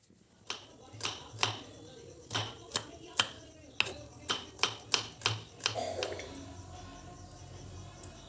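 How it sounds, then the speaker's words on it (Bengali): A knife chops onions finely on a cutting board, a series of sharp, close, evenly spaced taps in a quick rhythm. "পেঁয়াজ দুটোকেও আমি কুচি করে কেটে নেব"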